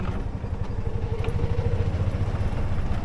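An engine runs steadily at an auction where trucks and engines are being sold, a loud, continuous idling rumble with a rapid, even pulse and some clatter.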